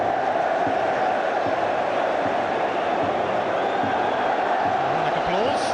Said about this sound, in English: Ironic applause.